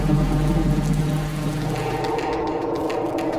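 Steady rain falls at an air force base in Ziro, Arunachal Pradesh, a continuous hiss with a low rumble that grounds a Mi-17 helicopter, heard alone and evenly throughout.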